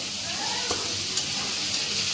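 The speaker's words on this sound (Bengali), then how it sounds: "এই তো মাছ ভাজা" Fish frying in oil in a pan in a home kitchen, a loud, continuous close-up sizzle with a couple of brief clicks and no talking.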